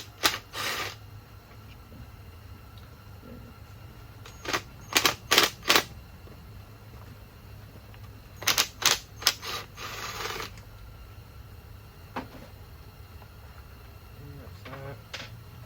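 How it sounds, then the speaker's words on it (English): Metal bolts being loosened and pulled from a pipe on an engine's thermostat housing during a teardown, heard as scattered sharp clicks and short rattling clatters in bursts over a low steady background hum. "Let's pull this pipe bolts off."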